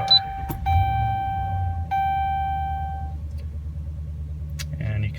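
A RAM 1500 HEMI pickup engine starting up and settling into a low, steady idle rumble, with dashboard chimes ringing over it early on and a voice talking briefly.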